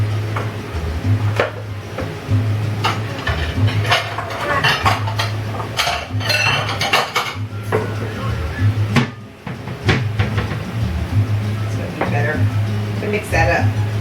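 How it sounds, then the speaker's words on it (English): Green cabbage being stirred into creamy polenta in a dish, with scraping utensil clinks and scattered clatter of cookware over a low steady hum, fairly close. "Mix that up."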